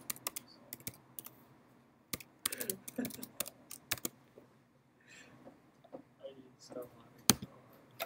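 Computer keyboard being typed on in a lecture setting: irregular bursts of sharp, close key clicks, some isolated and some in quick runs, while someone speaks quietly between them.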